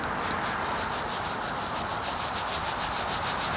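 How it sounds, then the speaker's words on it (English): Clumps of compost rubbed together by hand as they crumble apart, giving a steady, close, continuous gritty rubbing and scraping with no pauses and no voices. "You just rub them together and you see it falls apart."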